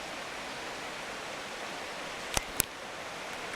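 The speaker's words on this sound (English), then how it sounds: "If you look close, you can see the river down there. You can hear it if I shut up for a second." The river far below in Kenomee Canyon rushes in a soft, steady wash of broadband noise, distant and unbroken. Two sharp clicks sound close by near the middle.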